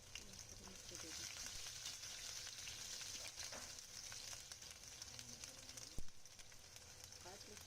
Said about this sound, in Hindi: अब इन्हें तेल में अच्छे से मिक्स करते हुए फ्राई कर लेंगे।